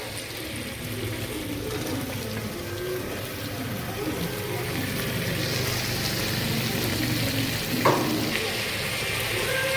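Onions, potatoes and carrots fry in oil for coconut rice, giving a steady close sizzle with occasional stirring scrapes and a brief clink near the end.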